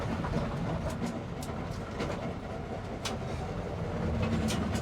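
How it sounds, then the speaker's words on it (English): A project car with a rough rear differential is driven, giving a continuous low rumbling road and drivetrain noise with intermittent clicks and knocks, and no talk. "That rear end sounds rough."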